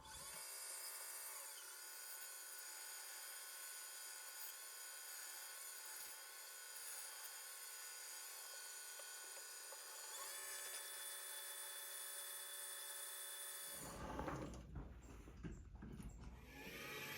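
A small lathe machines the knurl off a brass-like fuel tank part for a model engine, giving a steady, thin high-pitched whine that runs continuously before shifting into rougher cutting noise near the end.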